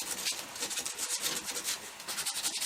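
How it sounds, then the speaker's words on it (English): Sandpaper of 220 grit rubs back and forth over a carved cottonwood bark wood spirit, a steady close scratchy rasp with quick rhythmic strokes and no talking. "So I'll sit there and sand them a little bit"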